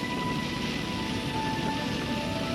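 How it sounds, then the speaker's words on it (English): Heavy rain pours steadily over the village of Fyfield, a dense, unbroken hiss of falling water that stays at a constant level throughout, with no voices. "It's absolutely bucketing down. And we're now out in Fyfield, and as you can see, the rain isn't stopping."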